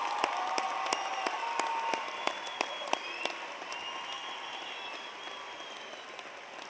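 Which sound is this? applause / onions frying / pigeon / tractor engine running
applause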